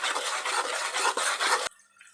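A spoon scrapes and stirs egg bhurji in a pan over high flame, a steady close rasping scrape with slight rhythmic pulses that stops abruptly, leaving near silence.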